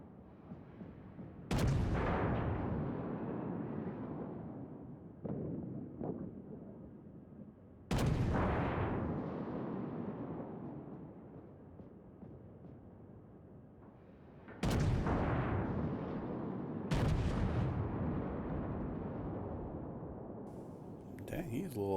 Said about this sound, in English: So I'll just shoot off a couple rounds.